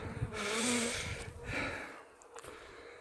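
Honeybees swarm and buzz around an opened beehive, a close, wavering drone that swells and fades with passing bees and some breathy noise.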